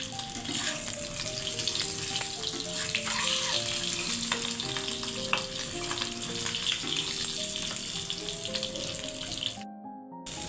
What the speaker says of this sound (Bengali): এটা মনে হয় ভাজো ডিম ছিল এই জন্যে আগুনের শব্দটা দেখছেন আমার চুলা বাড়াইলে অনেক শব্দ হয়